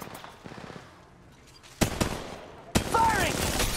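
Gunfire in the Apex Legends Mobile video game, two sudden loud bursts of shots starting with sharp attacks and continuing as rapid fire, preceded by quieter game sounds and faint voice.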